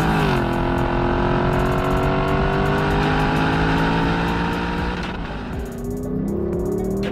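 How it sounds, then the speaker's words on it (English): A powerful V8 engine of a 2021 Lexus LC500 Convertible, top up, roars loudly and revs up, its pitch climbing steadily, then dips briefly before surging again close by. "listen to that engine"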